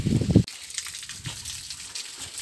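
Water gushes down an irrigation ditch beside coriander beds, with a loud, close rush at first that drops to a quieter, steady trickle and flow.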